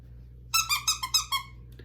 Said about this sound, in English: So then you have the head that's the squeaker.